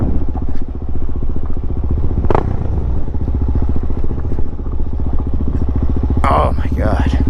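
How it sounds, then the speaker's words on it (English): Many motorcycles rumble together nearby in a steady, loud, pulsing engine drone, with a brief clatter and a faint voice near the end. "Look at all these bikes."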